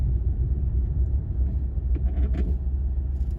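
Steady low engine and road rumble inside a moving manual Volkswagen Polo GTI in traffic, droning continuously with a few faint higher clicks and knocks near the middle.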